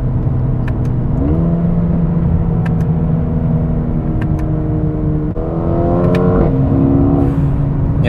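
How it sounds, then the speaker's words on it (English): A 2021 Mercedes-AMG A35 accelerates, its engine droning and climbing in pitch through the gears, heard from inside the car with a few faint, sharp exhaust pops and crackles scattered over the steady roar. "I like the way that the exhaust sounds, even though it's kind of muted in a sense"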